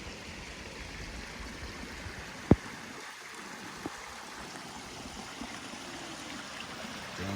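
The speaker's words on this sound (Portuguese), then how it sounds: "Tem tipo esses cachoeirinhos assim, esses poços." A clear stream with small waterfalls and pools in Chapada Diamantina, Brazil, gives a faint, steady wash of trickling water, broken by one sharp click and a softer knock, with no talking.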